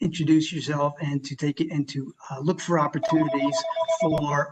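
A telephone rings during an online presentation, a repeated steady electronic tone sounding in the background beneath a woman's continuous speech.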